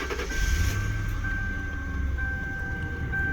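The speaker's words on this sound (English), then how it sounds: "The car starts right up." A Lincoln Town Car with 118,000 miles starts up outdoors in freezing weather, then idles with a low, even rumble and a faint steady whine, heard quietly from nearby.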